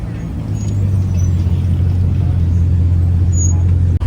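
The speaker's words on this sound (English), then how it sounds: "Got the gold SF90 Spider now with the top down, rolling out from the casino here." Gold Ferrari SF90 Spider with the top down rolling out from the casino in Monaco amid street carspotting crowds, a steady low engine drone close by over busy traffic noise and voices.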